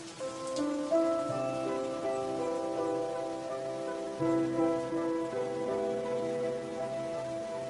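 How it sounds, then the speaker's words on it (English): Summer rain falls steadily in a mountain valley where snow monkeys live, a dense even patter of drops on the surface that runs unbroken with no voices. "For the babies, the downpour is something entirely new."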